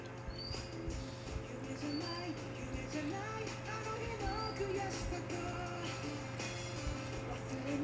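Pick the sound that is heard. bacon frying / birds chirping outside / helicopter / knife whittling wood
birds chirping outside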